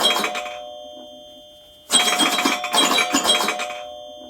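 Apple iPhone Pinball ringtone playing, a short bright electronic jingle heard in two bursts with a pause between, clear and close.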